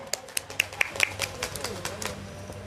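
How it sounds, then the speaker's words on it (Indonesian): A modest audience at a children's storytelling contest claps for a young contestant: a sparse run of distinct, sharp hand claps, uneven in rhythm and fairly close, thinning out toward the end. "Beri tepuk tangan yang meriah"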